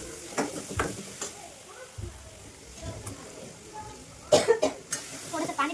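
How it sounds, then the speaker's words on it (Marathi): Curry leaves tossed into a hot pan for vada pav filling crackle and sizzle in uneven bursts, with stirring scrapes and a cough nearby; the spitting grows louder and busier toward the end. "गाईज आता कढीपत्ता टाकणार आहे."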